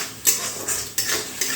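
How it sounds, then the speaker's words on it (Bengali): A spice mix with salt and a splash of water being stirred and fried hard in a pan, a steady hiss broken by regular spoon scrapes and metallic clinks against the pan, loud and close. "তারপর সামান্য একটু জল দিয়ে খুব ভালো করে এই মশলাটা কষিয়ে নিতে হবে"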